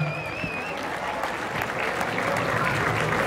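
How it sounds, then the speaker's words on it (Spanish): Crowd applause at an opening ranch festival in San Mateo Xalpa, greeting Rancho Quebrantahuesos: steady clapping from a large audience, moderately loud and continuous, with a thin whistle-like tone early on and faint voices mixed in. "Venga el aplauso, fuerte el aplauso."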